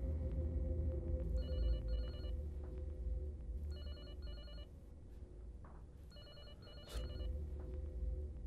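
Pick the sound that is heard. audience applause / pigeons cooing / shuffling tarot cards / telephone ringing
telephone ringing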